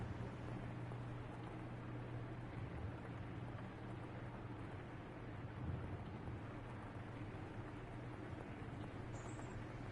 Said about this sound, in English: Sounds like rain again.